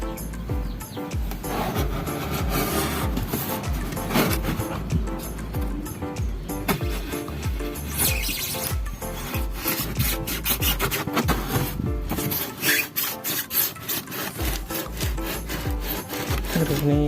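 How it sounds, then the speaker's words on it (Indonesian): A cutter blade saws and rubs through a styrofoam box to cut holes, with continuous rough scraping strokes up close and fairly loud. "kalau kita lubangi teman-teman pakai pisau atau apa terserah, pakai cutter juga nggak masalah ya"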